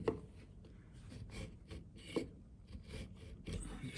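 A marking gauge scribes across the top of a wooden workpiece for a bridle joint, producing faint, close scraping and rubbing strokes with a couple of light taps.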